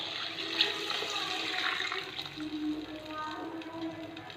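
A ground masala and peanut mixture pours into a clay pot of Tirunelveli-style fish curry, a soft continuous liquid gurgle and slosh heard close by for several seconds.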